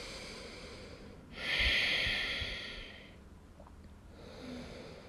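One strong, forceful exhale during a yoga downward dog, close and airy, lasting about two seconds and fading out, with quieter breathing before and after.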